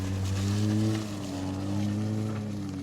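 Toyota Agya car engine revving hard on an uphill road in the Bukit Kapau hills, a loud steady low drone with strong harmonics that rises near the start, dips, then swells again.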